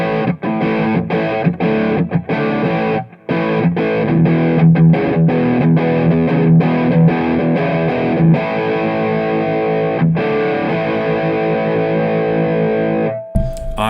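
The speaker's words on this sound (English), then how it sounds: "I love that rich distortion that you get from an Orange amp." Heavily distorted electric guitar playing rhythmic chords and riffs through an Orange amp, loud, thick and continuous, with brief gaps between strums.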